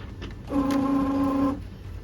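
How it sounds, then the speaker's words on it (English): A DTF printer runs in a short steady mechanical burst lasting about a second, a sustained tonal whine from the moving print head that starts and stops abruptly against a low background hum. "We continuously print on this printer,"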